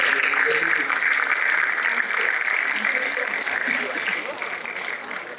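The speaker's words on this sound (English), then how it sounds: "Let us extend a warm round of applause to Dr. Sunita Tendulkar" An audience applauds a visiting nutrition speaker at a talk on millets; continuous clapping at steady volume, gradually thinning toward the end, with some voices murmuring underneath.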